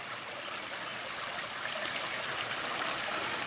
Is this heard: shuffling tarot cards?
no